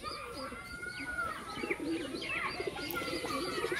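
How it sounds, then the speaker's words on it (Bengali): Pigeons coo in a soft, repeated murmur alongside bright chirps and tweets from other birds, a steady layer of birdsong close by with no talking. "এই সুন্দর পায়রা,"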